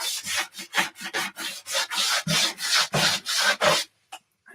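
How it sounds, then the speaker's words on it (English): A scraper rasps repeatedly along a waxed snowboard from nose to tail, about a dozen rhythmic, close scraping strokes stripping off wax, then a final faint scrape after a brief pause. "just go from your nose all the way to your tail, getting all the wax off"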